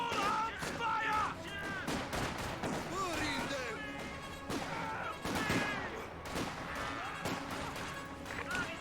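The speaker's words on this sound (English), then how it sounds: "Contact! Small arms fire! Taking small arms fire!" Small arms gunfire crackles in a Company of Heroes 2 battle, with repeated sharp bursts scattered among shouting in-game voices and busy combat noise.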